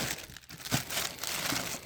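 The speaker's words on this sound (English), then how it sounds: "I'm going to take them out of the plastic bag." Thin plastic produce bag crinkling and rustling close by as organic bananas are pulled out, a steady papery crackle with a few sharper crumples.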